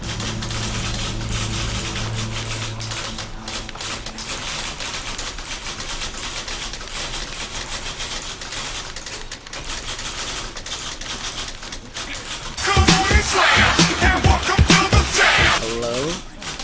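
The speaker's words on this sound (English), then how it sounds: "That typewriter." A typewriter in the video game The Beginner's Guide clacks in rapid, uneven keystrokes throughout, growing louder and denser near the end, with a low tone fading out early on.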